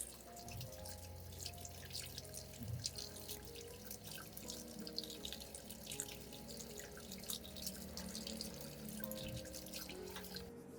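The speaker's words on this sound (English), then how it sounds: "I've washed them carefully under running water" Eggshells are rinsed under a running kitchen tap, a continuous spatter of water into the sink with small irregular splashes and drips, steady and fairly quiet throughout.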